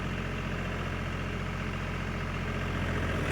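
A John Deere 5050D 4WD tractor's diesel engine runs steadily with the full brake applied, a constant, close, loud idle hum with a low throbbing tone and no gaps, alone without voices.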